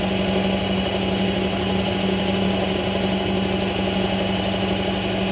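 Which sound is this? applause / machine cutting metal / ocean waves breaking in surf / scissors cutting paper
machine cutting metal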